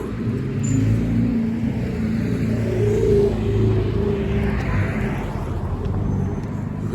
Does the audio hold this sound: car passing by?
yes